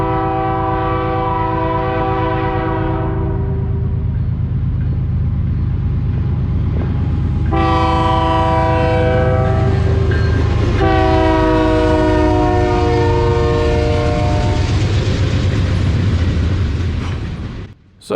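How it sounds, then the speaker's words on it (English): A heavy manifest freight train rumbles steadily past up close in Fulton, Kentucky, while its loud horn blares in long, repeated blasts. "So as this first manifest train continues by, headed down to the south to Memphis"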